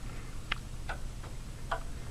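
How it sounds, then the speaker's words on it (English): A 1929 Standard Electric Time Company 60-beat master clock with a mercury pendulum ticks softly and close by, its face removed, giving a few sharp, evenly spaced ticks over faint background hum. "This is the mercurial pendulum variety, and I have the clock face off because I just got a new Verge pivot."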